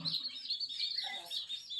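Newly hatched chicks beside a mother hen give quick, high-pitched peeping chirps in a short overlapping burst, fairly faint and close.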